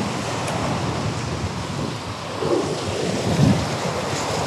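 Ocean swell and surf on the shore at Redondo Beach, Southern California: a continuous broad wash of waves and wind, swelling slightly toward the end, with no voices.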